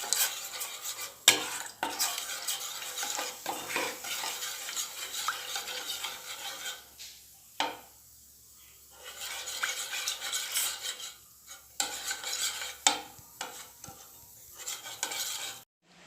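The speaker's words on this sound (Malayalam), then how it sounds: "എന്നിട്ട് നമ്മൾ നന്നായി ഒന്ന് ഇളക്കുക." A spoon stirs one cup of sugar with one cup of water in a pan, making repeated close scraping and swishing strokes with short pauses, with no talking.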